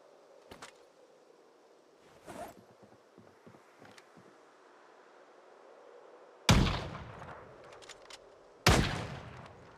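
Sniper rifle fire in the Project Zomboid zombie game: faint distant pops early on, then two loud sharp gunshots with ringing tails, the second about two seconds after the first.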